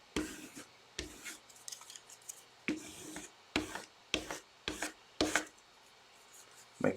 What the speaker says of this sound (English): make sure I squeegee all the stuff out of it